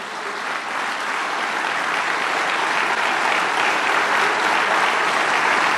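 A church congregation breaks into loud, dense applause, a continuous wash of clapping that swells slightly and holds steady throughout, with no voices rising above it.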